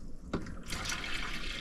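Cold water tap in a motorhome turned on, a brief gurgling spurt followed by a steady, soft rushing flow of running water close by.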